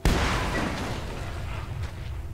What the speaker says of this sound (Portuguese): Isso que a gente abre é na explosão.